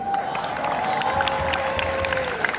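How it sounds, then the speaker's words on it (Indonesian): An audience at a school farewell ceremony for a retiring teacher at SMAN 105 Jakarta claps steadily, dense applause filling the room, with a faint tone running underneath. "Kita beri tepuk tangan lagi buat Bu Lesma ya."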